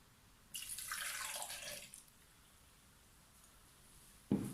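Milk pours from a container into a blender jar for an avocado smoothie, a soft liquid splash lasting about a second and a half, followed by quiet and a brief clunk at the end.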